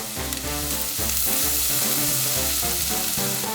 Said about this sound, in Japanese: やや多めの油で長ネギ、干しエビ、玉ねぎ、こいつらを炒めていく。